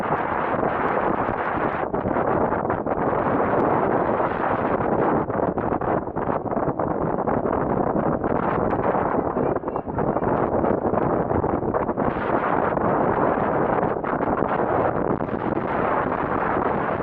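Loud, constant wind roar buffets the microphone for the whole stretch, with rough gusty surges and no pauses.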